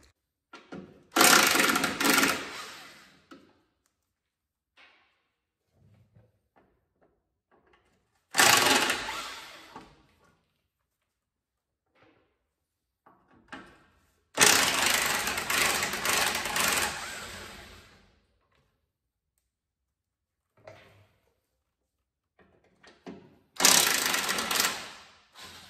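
Bolts being removed from the front skid plate of a 1988-1998 OBS Chevy 1500, four loud bursts of a power tool spaced apart with quiet gaps and faint clinks between, close.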